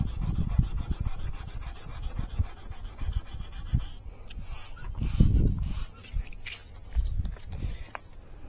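Sandpaper rasps in short back-and-forth strokes over the curved clear-coated edge of a 2013 Porsche 911 headlight, close and uneven, with brief pauses between bursts of rubbing.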